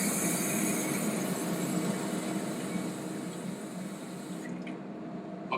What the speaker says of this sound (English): Wash them up, soap them up real good.